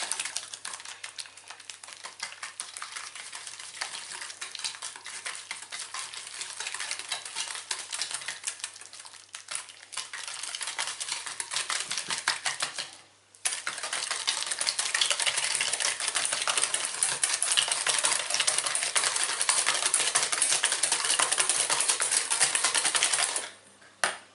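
An egg being mixed by hand into a sugar and butter mixture for melon pan dough, giving a steady, close scraping and clattering texture that runs continuously with one brief pause, with no talking.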